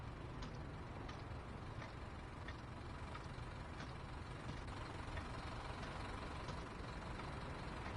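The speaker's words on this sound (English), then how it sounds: "So you can hear the engine running." A steady, low train engine rumble in the game Train Sim World 2 runs continuously with a faint rhythmic ticking on top, loud and close, with no talking.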